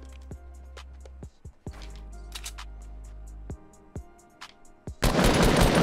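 Sharp double-barrel shotgun shots in a video game, several distinct, percussive bangs spaced irregularly among quieter game sounds, ending in a burst of loud broadband noise.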